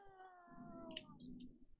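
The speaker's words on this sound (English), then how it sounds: "Is that a cat that I see?" A pet cat gives a soft, drawn-out meow indoors, faint and close, followed by a few short, breathy mewing bursts with quiet room noise behind.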